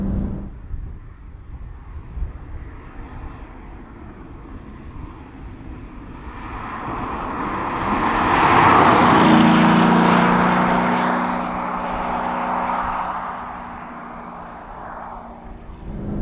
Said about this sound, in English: I'm going to turn that exhaust down because it is shouty